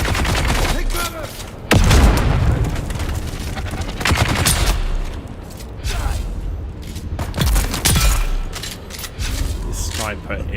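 Sniper rifle fire in the video game Dune Awakening: loud, close shots and booming blasts land at irregular intervals amid a dense battle mix of gunfire and mechanical noise, with voices shouting through it.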